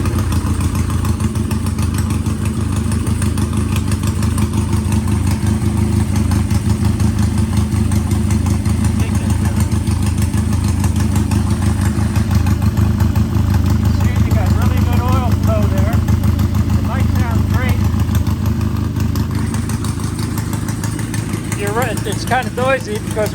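Vintage British motorcycle engine idling without mufflers, a loud, steady, rough exhaust rumble close by throughout, with someone talking over it at times.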